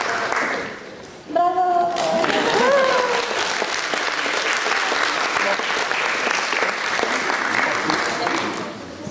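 Audience applause fills the hall after a cosplay costume contest at a fantasy convention in Wrocław, a dense, sustained wash of clapping that starts abruptly and holds steady, with a host's voice calling out over it at the start.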